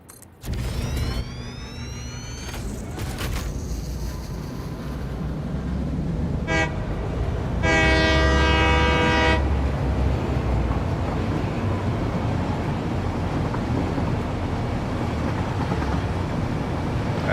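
In the video game Satisfactory, a train rolls along with a steady rumble and sounds a long, loud horn blast partway through, then keeps moving; no one talks.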